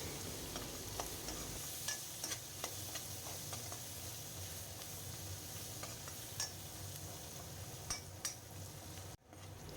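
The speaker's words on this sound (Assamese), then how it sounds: "এতিয়া মই এইখিনি ভালদৰে ভাজি ল'ম" Potatoes fry with turmeric in a pan for a pumpkin-leaf dish, giving a quiet, steady sizzle with occasional light stirring clicks and scrapes and no speech.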